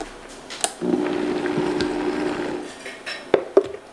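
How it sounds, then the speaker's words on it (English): Pesto with Redmond real salt and crushed red pepper being stirred in a bowl, a steady soft scraping and swishing that runs for a couple of seconds, then a few sharp clinks of utensil against the bowl near the end. "I'm gonna mix it up a little bit more"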